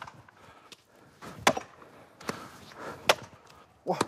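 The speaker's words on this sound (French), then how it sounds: "Dernière épreuve à la hache, le springboard avec ses planchettes en échelle," An axe striking wood in a springboard woodchopping competition, several sharp, separated chops at irregular intervals, moderately close, with faint background activity and no talk.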